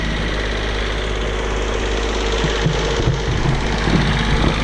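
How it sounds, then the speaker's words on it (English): Kubota B1550 tractor engine held at full throttle, a loud steady droning roar that stays constant and close throughout. "All right, she's coming online. Full throttle."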